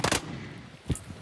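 A gunshot in a staged arrest of smugglers: two close, loud broadband cracks in quick succession, then a dull second report about 0.9 seconds later, each followed by rumbling tail.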